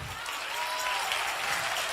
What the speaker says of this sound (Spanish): Ese es el aplauso.